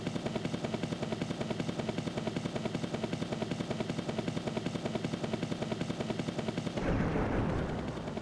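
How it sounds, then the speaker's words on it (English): Helicopter in the game Crusader: No Remorse, a loud, steady rotor chop pulsing rapidly throughout, ending in a burst of explosive noise near the end, with no voices. "This is exactly the same helicopter noise that's in Desert Strike."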